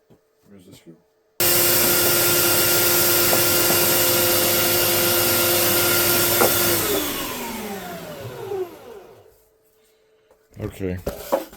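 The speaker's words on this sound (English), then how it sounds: "I'm going to have to put this on mute and get the vacuum." A loud, steady vacuum-like whine with a droning hum starts abruptly, runs several seconds, then winds down with falling pitch; brief talk before and after.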